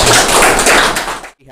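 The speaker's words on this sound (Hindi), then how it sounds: "एक बार जोरदार तालियां सर के लिए" An audience at a Women's Day event applauds loudly, a dense burst of clapping that holds steady for over a second and then cuts off abruptly.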